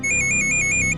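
A phone rings with a rapid repeating electronic warble, about nine short even pulses in one second, loud and close over a low indoor hum.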